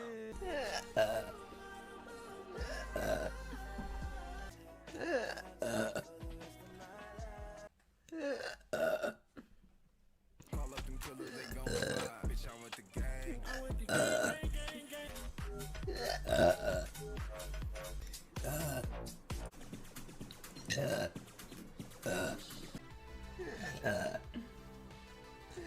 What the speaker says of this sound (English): I'm burping so much, I don't know why.